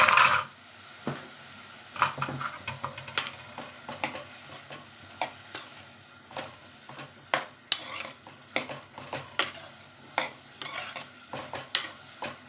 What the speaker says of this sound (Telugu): ఒక స్పూను సాల్ట్, చిటికెడు పసుపు యాడ్ చేసుకొని కలుపుకోవాలి.